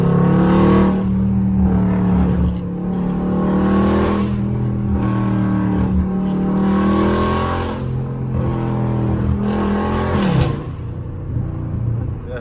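A loud Dodge Scat Pack roars while revving and accelerating through a neighborhood, a deep continuous engine drone that holds strong before shifting down near the end.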